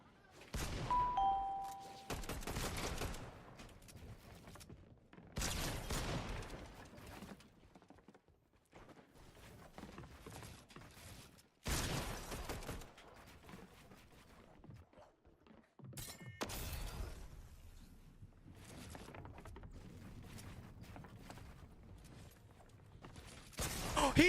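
A pump shotgun fires in a video game. A few sharp, loud blasts ring out, spaced several seconds apart, between quieter in-game ambience.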